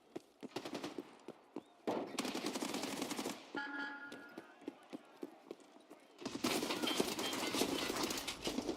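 Shotgun blasts in a video game ring out in quick, clustered bursts mixed with other gunfire and game noise, loud and close, separated by brief lulls.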